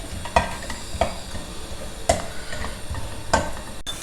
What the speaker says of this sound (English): First roast a handful of groundnuts.